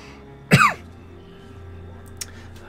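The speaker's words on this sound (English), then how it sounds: "hate this cough so much" A single sharp, loud cough from a person playing a video game, one harsh burst followed by a faint throat sound, over quiet background hum.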